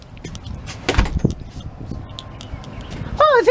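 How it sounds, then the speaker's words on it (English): A door on a tiny home swings shut with a couple of close thumps, and a short squeak follows near the end, with faint background chatter. "Let me close the door."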